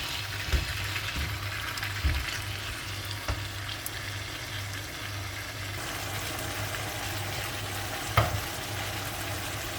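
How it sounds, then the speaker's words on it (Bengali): Taro stolons cooking with coconut in a pan give a steady close sizzle and frying hiss, with a few sharp clinks and scrapes of stirring scattered throughout. "লতিটা আমি আজকে নারিকেল দিয়ে রান্না করব।"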